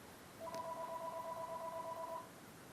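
A telephone rings with an incoming call, one steady two-tone electronic ring lasting under two seconds, heard at moderate level over a background hiss.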